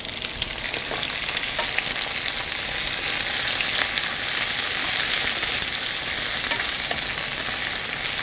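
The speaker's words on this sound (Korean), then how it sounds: "중간 불로 맞춰서 청경채 볶을게요" Bok choy stir-fried in hot oil with garlic in a pan, a loud continuous sizzle and crackle with faint stirring scrapes, steady throughout and no talk.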